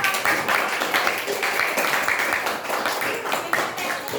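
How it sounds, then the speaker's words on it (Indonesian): Classroom applause in a teaching practice session at an Islamic teacher-training institute in Cirebon, Indonesia. A group of students claps briskly and continuously at close range, giving a dense, slightly uneven patter throughout. "Ya, beri tepuk tangan para"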